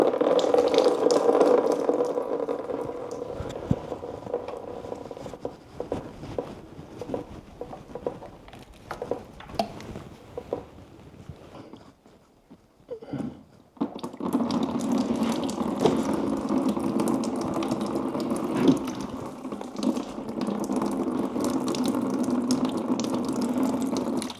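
Water gushes and splashes steadily for about twenty seconds from a Yanmar 4JH4-TE boat engine with plugged hoses, briefly tapering off midway before pouring again, close by with a faint rattle.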